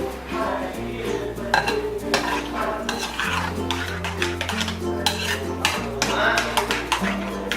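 Creamy ceviche is mixed in a bowl with a utensil, giving repeated close clinks and scrapes over a steady low hum, with no one talking.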